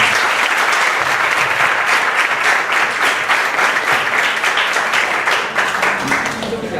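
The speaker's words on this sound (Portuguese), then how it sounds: "Salve de palmas, Padre." Audience applause for a priest at the close of a Catholic catechesis workshop: a steady, dense round of clapping from a sizable crowd, sustained at even loudness for the whole stretch with no talk over it.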